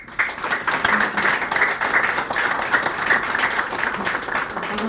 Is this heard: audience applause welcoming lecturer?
yes